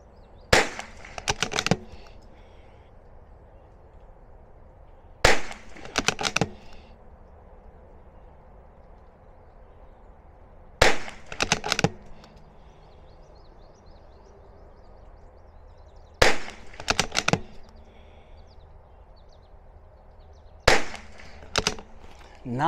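Rifle shots from a B22 .22 rifle fired during ammunition lot testing over a chronograph. Five loud, sharp reports come roughly every five seconds, each one trailed by a short rattle of echo and handling noise, with a quiet background in between.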